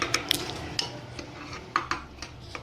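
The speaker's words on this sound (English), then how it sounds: "let's give it a stir" Onions with ginger garlic paste being stirred in a pan for chicken palak, heard as a run of close scraping strokes and light clinks of a spoon against the pan, with only a faint sizzle.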